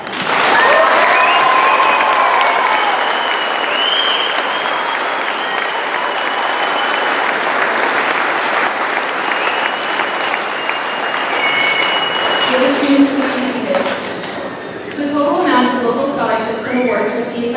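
A large audience at a 2015 high school graduation gives sustained applause for scholarship students and donors, loud and dense, thinning slightly near the end as voices come through.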